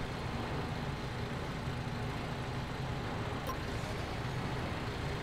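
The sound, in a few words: truck engine placed in Construction Simulator 3 video game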